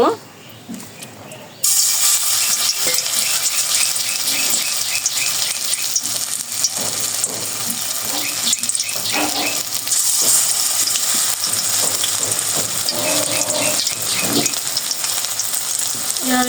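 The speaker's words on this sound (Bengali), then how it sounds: "কড়াইতে দিয়ে এখন ভেজে নেব" A banana flower and rice flour mixture hits hot oil in a wok, bursting into a loud, steady, close sizzle that continues throughout, with a voice heard faintly at times.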